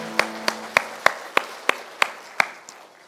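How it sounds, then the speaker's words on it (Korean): Slow, evenly spaced claps from a church congregation, about eight sharp beats in three seconds, close and fairly loud with a faint hum beneath. "하나님께 영광의 박수 올리겠습니다."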